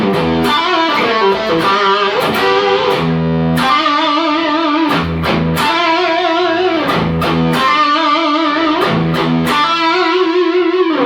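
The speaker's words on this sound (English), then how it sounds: "Got a real gutsy distortion" Electric guitar through a Tech 21 FlyRig5 riffing with thick, gritty distortion, punchy palm-muted chugs and ringing chords in a steady rock rhythm, loud and continuous with no talking.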